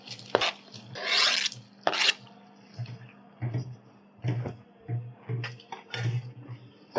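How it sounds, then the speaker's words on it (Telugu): Raw mango pieces dropping into a pot of goat offal (boti) curry, with a series of sharp clinks, knocks and scraping taps of pieces and utensil against the pot, irregular and close, mostly without talk. "ఇప్పుడైతే మామిడికాయ ముక్కలు వేసేసుకుందామండి."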